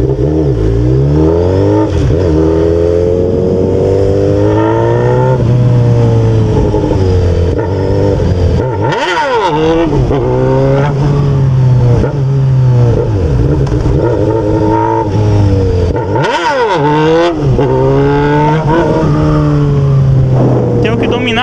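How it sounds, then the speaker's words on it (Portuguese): Honda Hornet motorcycle with a straight-pipe exhaust revving hard and loud in an enclosed space, rising and falling repeatedly with sharp throttle blips, while someone talks over it. "A moto é bruta demais, velho."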